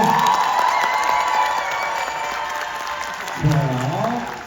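Kindergarten children clap together after a fan-dance performance, a crowd of small hands mixed with cheering and an adult voice speaking near the end.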